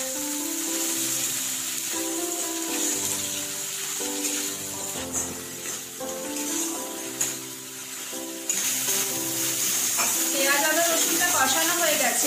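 A blended paste of onion, ginger and garlic sautéing in a pan, with a soft continuous sizzle under background music, faint stirring noises and a brief burst of louder frying near the end.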